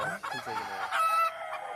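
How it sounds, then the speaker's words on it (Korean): A Korean native long-tailed rooster crows once, close and fairly clear, the call rising and holding briefly before trailing off, with no talking over it. "여기도 보시면 수탉도 지금 같이 있거든요"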